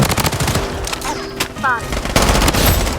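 MP5 submachine gun fire in the online shooter BloodStrike, with loud rapid automatic bursts that crackle continuously over game effects and a faint pitched tone.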